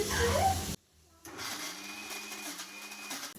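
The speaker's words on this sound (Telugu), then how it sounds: "గ్రైండర్ వర్క్ స్టార్ట్ చేసింది." A kitchen mixer grinder whirs briefly, cuts out for a moment, then runs again as a lower, steadier hum with a faint whine, heard close up with no speech.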